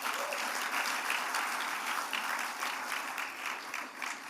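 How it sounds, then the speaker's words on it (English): A room of guests at a business breakfast applauds steadily, a dense, even wash of clapping heard from a moderate distance for several seconds. "Let's give LinkedIn a round of applause"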